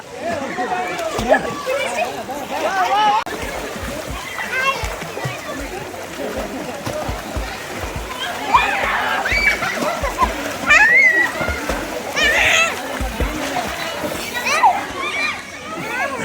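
Children splash in swimming pool water at a resort retreat. The splashing is loud and irregular, with kids' voices and adult chatter mixed in throughout.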